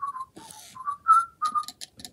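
A small WowWee Fingerlings interactive baby monkey toy gives a run of short, bright electronic whistles in quick chirpy bursts, close and clear with no talking.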